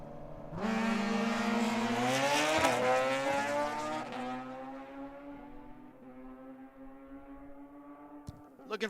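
Junior Comp drag race cars launch at Tucson Dragway with a loud, sudden engine roar that climbs in pitch, then slowly fades as they pull away down the strip.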